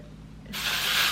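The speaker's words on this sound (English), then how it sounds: "And just spray that throughout my hair." A short burst of Eva NYC hair texture spray starts abruptly after a quiet moment and hisses steadily, close and fairly loud.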